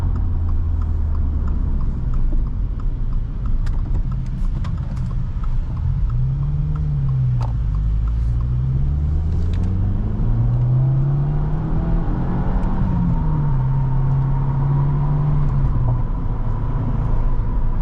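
A manual 2022 Subaru WRX makes a U-turn, its engine droning steadily up close with rising and falling tones as it slows and pulls through the turn.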